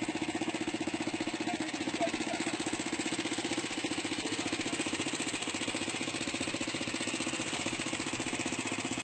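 A very archaic engine powers a homemade aircraft built from recycled objects with a plastic chair for a pilot seat, chugging in a fast, rough, steady rhythm with harsh rattling, loud and continuous for the whole stretch.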